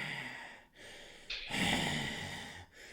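A voice mimics Waluigi's heavy breathing with a series of raspy, gasping breaths and snorts, loud and close, broken by short pauses between the wheezy bursts.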